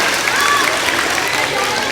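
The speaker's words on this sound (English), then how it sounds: "Give her a round of applause" Students at a school Red Ribbon rally applaud together, a dense wash of clapping from a sizeable group filling the moment with steady, fairly loud hand noise.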